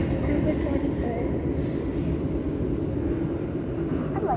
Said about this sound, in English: But how long is this train ride?